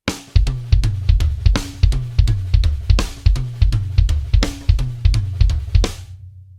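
Fast drum fill pattern rolling around the toms, booming low hits with regular cymbal accents, loud and close, ending in a ringing decay.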